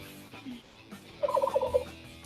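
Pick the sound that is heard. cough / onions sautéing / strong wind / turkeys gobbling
turkeys gobbling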